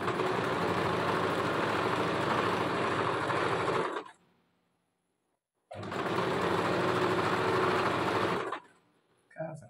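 An electric sewing machine runs in two long bursts of fast, dense whirring stitching on fabric, close and loud, separated by a short silence, ending with a faint sound after the second run.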